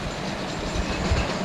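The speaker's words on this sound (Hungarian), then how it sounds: "Jön az a szemét vonat, megállt." A diesel train rumbles steadily close by while arriving and stopping at a station between Kelenföld and Déli station, a continuous low heavy roar with faint rail noise.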